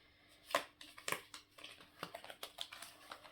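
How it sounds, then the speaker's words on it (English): Heart-shaped oracle cards are shuffled in soft, quick papery taps and flicks, a close, quiet run of irregular clicks with no talking. "it's a bit difficult to shuffle heart-shaped cards, but I'll try my best"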